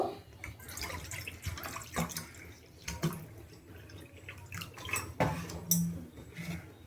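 Water poured from a bowl into a cooking pot for Gobindobhog rice pilaf, with splashing and dripping plus clinks of metal pots and utensils in a kitchen, close and moderately loud with no talking.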